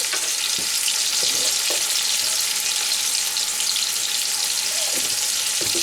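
Potatoes with salt and turmeric frying in hot oil, a steady loud sizzle throughout with occasional soft stirring scrapes.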